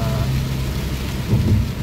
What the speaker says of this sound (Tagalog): Nagagawa ng nature ang ulan na yan.